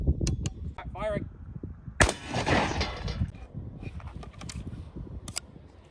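A pump-action shotgun fires a birdshot round at a solid steel plate outdoors, producing one sharp loud crack with a metallic impact, set among quieter clicks and handling noises while someone speaks.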